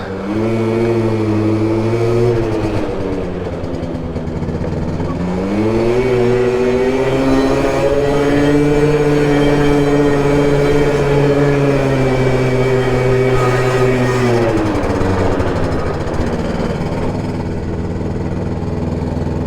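Malaguti Phantom F12 Digit 50 LC liquid-cooled 50cc scooter, close and loud, its engine buzzing as it revs up and holds high through an acceleration run, then easing back toward a lower idle-like drone.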